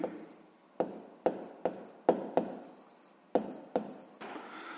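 A pen writes numbers on paper during a sixth-grade maths exercise, giving a run of close scratchy strokes that start sharply about eight times and fade between them, with no voice.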